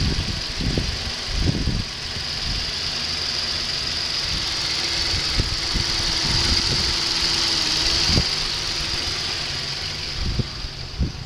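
A 2008 Ford Taurus Limited with a 3.5 liter V6 idles steadily and close by, a continuous engine hum with a faint knocking and a few sharp clunks and bumps scattered throughout.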